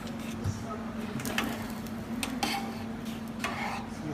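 A spoon stirs spaghetti in a pot of water for a bolognese, giving light clinks about once a second over a steady low kitchen hum.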